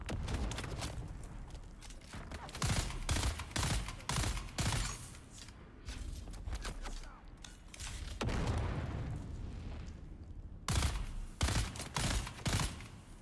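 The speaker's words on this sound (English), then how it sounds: "Oh, God, that's grenades." Grenade blasts and gunfire erupt in a chaotic Dune Awakening combat scene, with repeated loud booms and bursts of shots packed close together over several seconds.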